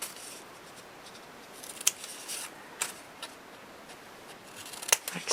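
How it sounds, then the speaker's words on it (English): Scissors snip off the ends of paper while a yearbook memory album is being assembled, a few sharp, close cuts spread over several seconds against a quiet room. "And I also like to cut off a bit on the ends here."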